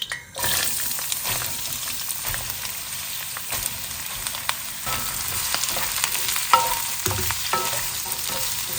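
Chopped ingredients for paneer tikka masala fry in a pan with two to three tablespoons of hot oil, a steady close sizzle broken by scraping stirs and a few clanks, no voices.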